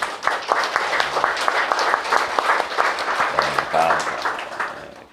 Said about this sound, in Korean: 하나님께 영광의 박수 드려요